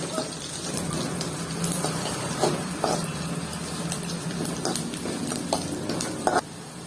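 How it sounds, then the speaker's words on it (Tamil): Onions sautéed in a pan until reddish, for a ridge gourd kadaiyal, give a steady close sizzle with faint scraping stirs and a few sharper clicks throughout. "வெங்காயம் நல்லா ரெட்டிஷாக வர வரைக்கும் நல்லா வதக்கிக்கோங்க"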